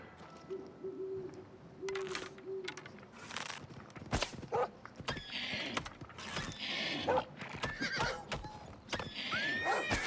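A horse in Oblivion Remastered whinnies and its hooves clip-clop, mixed with sharp impacts and other game effects; the loud bursts come in irregular clusters over a quiet background.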